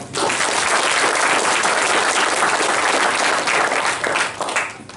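A large seminar audience at a workplace talk breaks into loud, unbroken applause, dense clapping throughout that tapers slightly at the very end.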